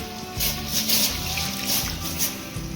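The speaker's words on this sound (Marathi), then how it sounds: "आपण तांदूळ घेतले त्यात स्वच्छ धुवून घेऊया." Raw rice being washed clean in water for a chicken biryani, with a steady swish and trickle of water under a continuous background hum.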